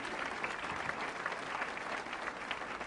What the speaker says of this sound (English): Let's give a big round of applause to your great mayor, Ben Walsh, who's doing a great job.